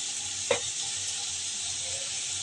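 Jackfruit frying in a pan for a Bengali vegetarian curry gives a steady, soft sizzle throughout, with one brief sharp tick near the start and no talking.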